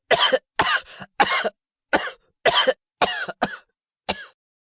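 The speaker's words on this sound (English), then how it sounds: "How long have you had that cough?" A man's harsh, repeated coughing fits, as in a dramatized reading of a Poe horror tale set in a wine cellar, come in about eight close, loud bursts with short pauses between them, with no talk.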